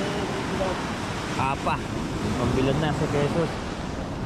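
Big sea waves roll onto a beach shore, a continuous wash of surf and wind noise close by, while people talk briefly over it.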